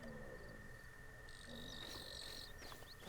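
A cricket chirps steadily in the background of a Zelda Breath of the Wild game scene, a thin continuous tone under soft ambient game sounds and faint music, with brighter bird-like calls joining partway through.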